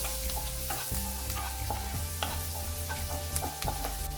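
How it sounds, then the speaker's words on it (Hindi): Chopped ginger and garlic frying in a pan over medium flame, a steady close sizzle with repeated stirring scrapes and clunks throughout, no talk. "अभी इसको मीडियम फ्लेम में 1 मिनट तक फ्राई करेंगे।"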